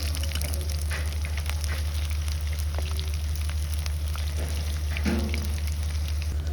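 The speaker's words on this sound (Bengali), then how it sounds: "এখন পেঁয়াজও ভাজতেছি বেশি করে পেঁয়াজ দিয়ে" Plenty of onions frying in oil, an even, continuous crackling sizzle over a steady low hum, close by with a couple of faint clinks and no talking.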